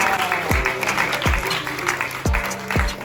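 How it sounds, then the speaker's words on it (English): Audience applause after a Q&A talk, a steady wash of clapping running through the whole stretch, with several low thumps from handling noise. "give him a nice round of applause"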